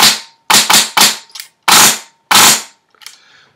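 Five sharp, loud shots from an HPA-powered airsoft gun with a Polar Star engine, fired at an uneven pace, each a crisp pop with a short hiss, followed by a faint puff of air.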